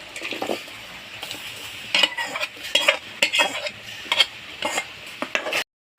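Hog plums are stirred into a spice masala in a pan over a light background sizzle, with repeated scraping and clinking of a spoon against the pan before an abrupt stop.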